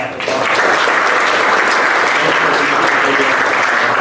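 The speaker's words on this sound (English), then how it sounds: "So I just want to actually thank also Fern, if we can give him a round of applause" Steady applause from an audience at an organization meeting, a continuous even wash of clapping lasting a few seconds.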